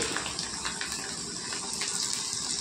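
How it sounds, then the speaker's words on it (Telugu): Cauliflower florets for Cauliflower Manchuria hiss and sizzle steadily in hot oil, a dense, bright, continuous frying noise heard close up with no talking. "చూడండి, నూనె బాగా వేడెక్కిందండి. ఇప్పుడు ఒక పువ్వు ఇలా వేసుకుందామండి."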